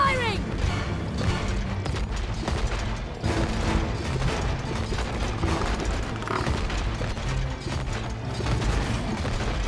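Rapid mechanical gunfire rattles steadily in the co-op game It Takes Two, with clicking, ratcheting bursts repeating under a busy mix of game sounds and occasional voices.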